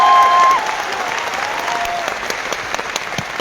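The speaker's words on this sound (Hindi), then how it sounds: "इन लोगों की तालियों से इस बात का एहसास होता है कि आपके लिए ये आत्मा से दिल से ताली मार रहे हैं" An audience at an indoor stadium event in Delhi claps in sustained applause, dense and steady, with a brief tone at the start.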